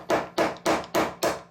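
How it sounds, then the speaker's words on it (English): Five light, evenly spaced hammer taps on a brass drift knocking taper pins out of the crank webs of a 5 inch gauge Lion model locomotive, sharp close metallic knocks with short decays. "The first job is to remove the crank webs by tapping out the taper pins."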